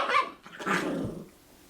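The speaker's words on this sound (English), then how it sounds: "These dogs really set the scene, don't they?" Dogs barking, two close, loud barks in quick succession with a rough growling edge, and no voices.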